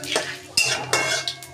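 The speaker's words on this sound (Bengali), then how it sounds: "জিরে ফোড়ন আর তেজপাতা ফোড়ন দিলাম।" Metal spoon stirring cumin seeds and bay leaf tempered in hot oil in a pan, with three or four sharp clinks and scrapes against the pot over a light sizzle.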